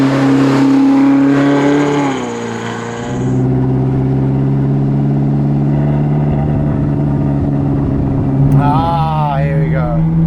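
A Ferrari California convertible drives with the roof down, its engine a loud, steady drone that rises as it revs near the end, with someone talking over it.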